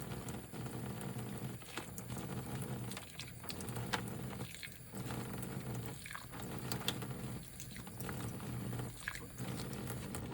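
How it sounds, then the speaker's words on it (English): Water is sprinkled onto potting soil in a Ziploc bag for winter sowing, a soft continuous trickle and patter close by with several brief pauses, no talking. "And I usually sprinkle a little bit more water."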